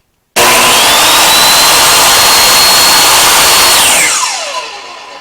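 A DeWalt DWE7485 compact table saw runs loud and steady with a high motor whine, then spins down as the blade coasts to a stop, alone with no talk.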